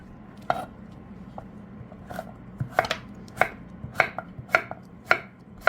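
Knife slicing through a young, firm cucumber on a cutting board while making cucumber kimchi, with a series of crisp, close chops falling in an uneven rhythm that speeds up toward the end.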